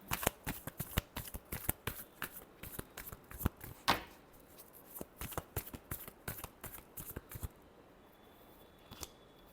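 Tarot cards shuffled by hand close up, a rapid run of crisp flicking riffles and taps in quick irregular bursts, then a pause with a few last soft card sounds.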